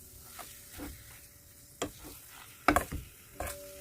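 Sheera, a semolina pudding, is stirred in a kadhai over a low flame. Quiet frying sizzles under scattered scraping strokes and a few louder clinks of the spoon against the pan, with no voices.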